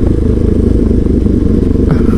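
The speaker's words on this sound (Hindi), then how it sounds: "स्लोली स्लोली बाइक चला रहे हैं" Several motorcycles ride slowly together at dusk with hazard lights on, a steady loud low engine drone with light clatter running throughout, close to the listener.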